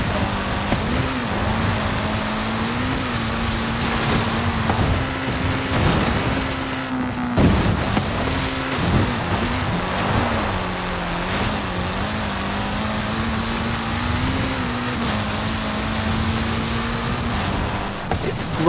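Ford Fiesta racing in a video game, a steady, loud engine drone with wavering pitch through gear changes and throttle shifts, plus a brief dip and occasional tire squeal, sustained throughout.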